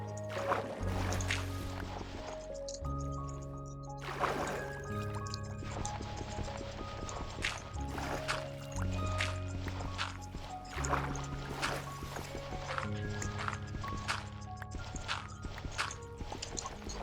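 A Minecraft character swims through water, with soft splashing and dripping game sounds running steadily under background music and no talking.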